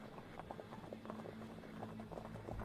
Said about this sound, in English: In the distance came the sound of galloping horse hooves.